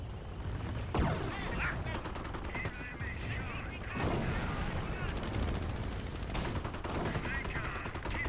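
Anti-tank guns and other weapons firing in Company of Heroes, with sharp heavy booms near the start and middle over a constant rattle of battle noise.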